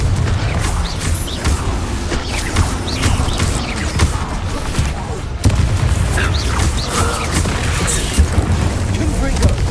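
Fiery Confringo explosion spells cast repeatedly during combat in Hogwarts Legacy, loud booming blasts and crashing impacts recurring throughout under game noise, with a sharp burst near the middle.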